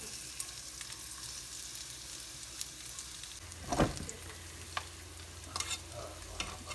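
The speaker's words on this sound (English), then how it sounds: "And it should give a little sizzle." Steady crackling sizzle of chicken strips frying in hot oil, with a brief clatter near the middle and small pops later on.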